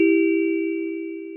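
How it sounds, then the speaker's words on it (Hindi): A household doorbell gives a single sustained electronic ding that fades slowly over about a second and a half, clear and alone. "और घर की घंटी बज"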